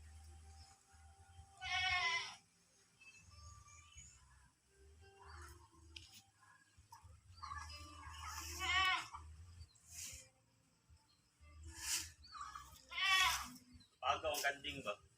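Goats bleat several times in wavering, nasal cries, some close and some farther off, with soft low rumbling in between.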